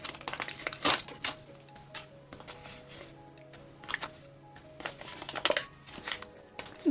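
Crinkly plastic rustling and tearing in several bursts, close up, with brief rattly crackles scattered throughout and a faint hum underneath.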